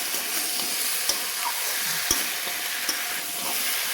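Vegetable shukto being stirred in a pan with fried lentil dumplings (bori) and chili powder, a steady close sizzle broken by a few sharp scrapes of the spoon against the pan.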